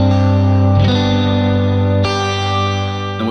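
Live electric guitar, heavy with chorus, echo and distortion effects, rings out a sustained chord that resolves into a sus4, with fresh strums near 0.8 and 2 seconds and a wide shimmering tail, loud and alone.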